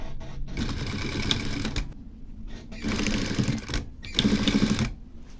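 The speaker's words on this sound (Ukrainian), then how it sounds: "З'єднуємо однією суцільною строчкою з переходом в шов рукава" A sewing machine stitches a continuous seam on a men's jacket of double-sided quilted raincoat fabric, running in fast bursts with short pauses between them, close and fairly quiet.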